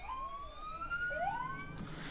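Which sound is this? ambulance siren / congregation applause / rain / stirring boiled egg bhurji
ambulance siren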